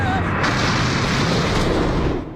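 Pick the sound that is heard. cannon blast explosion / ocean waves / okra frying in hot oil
cannon blast explosion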